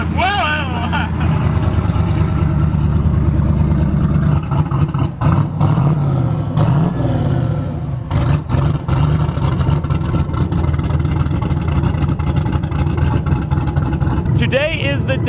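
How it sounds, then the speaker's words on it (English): A turbocharged LS6-swapped Volvo sleeper engine revs hard on a dyno, loud and close, with a steady low rumble, choppy bursts and stumbles suggesting a misfire, and voices talking over it. "The Volvo is going on the dyno."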